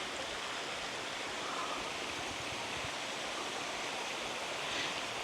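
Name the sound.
waterfall stream flowing down over rocks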